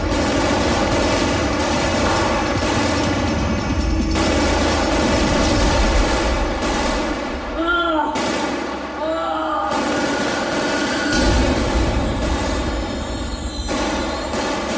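Gunfire during the Mumbai terror attack crackles in dense, continuous bursts with sharp reports, set in a loud, busy mix that stays intense throughout.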